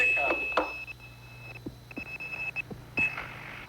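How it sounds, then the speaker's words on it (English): Pager bleeper going off in a radio studio, a thin high-pitched tone sounding in several short repeated beeps over a low background hum, with a voice talking. "that's my bleeper telling me somebody's"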